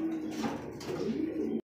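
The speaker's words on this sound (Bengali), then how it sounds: "চলে আসলাম আরো এক পেয়ার অসাধারণ একজোড়া কবুতর।" Pigeons at a pigeon farm coo in steady, close overlapping calls for about a second and a half. The calls end abruptly, leaving near silence.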